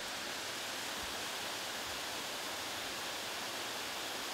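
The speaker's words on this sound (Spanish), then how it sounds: "la agua que está corriendo es la que da funcionamiento a la planta que está ahí abajo" Water rushes along a canal that feeds a hydroelectric turbine plant below a dam, making a steady, broadband roar with no breaks and no voices.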